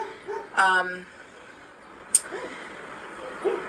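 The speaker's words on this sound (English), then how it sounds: "sorry about the dogs again" Dogs bark outside, one short harmonic bark followed by a sharp yip and a fainter later bark, distant and under quiet indoor room tone.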